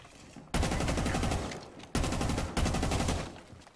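Shotgun blasts in a video game, loud and close, come in two or three heavy bursts with dense rattling gunfire filling the gaps between them.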